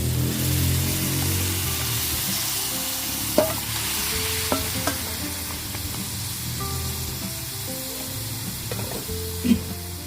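Marinated pork sizzles and fries steadily in a pan, a continuous hiss with a few sharp pops and clinks rising above it, close and fairly loud, with no talking.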